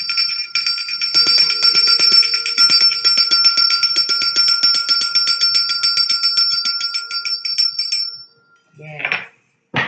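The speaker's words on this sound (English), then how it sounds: "I did forget to ring the bell, but we will do that after the spread." A handheld bell rung rapidly during a tarot reading, a bright continuous metallic ringing with a fast tremolo, close and loud, stopping abruptly before a brief voice.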